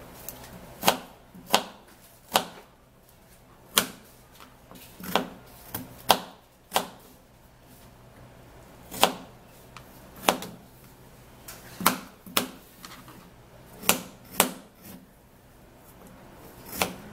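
Knife chopping peeled okra into pieces on a board, a steady series of about twenty sharp, close cuts at a brisk, slightly uneven rhythm, heard alone with no talking.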